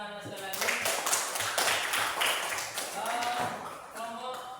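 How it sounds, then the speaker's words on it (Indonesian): A classroom audience claps after a group's turn during an unplugged algorithm and digital content literacy activity, a moderately loud, steady spread of scattered hand claps with voices mixed in. "Beri tepuk tangan sekali lagi."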